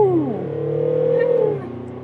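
A Mercedes V-Class van engine accelerating in sport mode on the approach to a motorway, a loud rising engine note that climbs in pitch, holds, then drops away as it eases off, with no talk.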